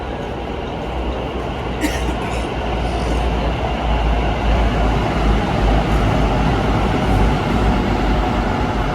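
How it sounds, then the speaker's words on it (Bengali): A Kolkata Metro train arriving at the station rumbles heavily and continuously nearby, a deep low roar with faint squeals and clanks riding on top. "আমাদের মেট্রোটা আসছে"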